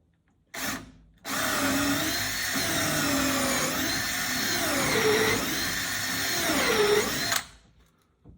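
A power drill bores screw holes into a Pearson Ensign sailboat with a bit set slightly longer than the screws, running as one steady, loud whine for several seconds after a brief opening burst, then cutting off.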